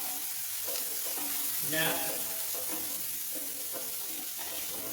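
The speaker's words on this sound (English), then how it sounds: "So the onions already caramelizing." Onions caramelizing in a pan for a vegan curry, a steady close sizzle and fry hiss with light stirring scrapes throughout, and a brief spoken word over the top.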